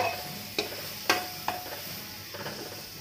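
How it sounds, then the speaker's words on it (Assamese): Cooking sizzle as cucumber fries in a pressure cooker, with a few sharp clinks of a utensil stirring, soft and close, no voices. "তিয়হ দি এইখিনি কুকাৰতে ভাজি লৈছোঁ"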